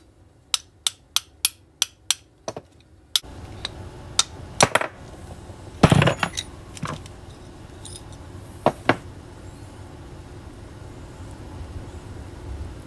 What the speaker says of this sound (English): we're gonna whack it real good